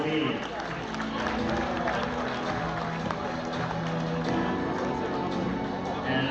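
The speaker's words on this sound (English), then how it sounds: "let's give a round of applause to our Philippine Women's Dragon Boat Team" An audience at a women-in-sports awards ceremony applauds steadily throughout, a dense, even wash of clapping with crowd murmur and voices mixed underneath.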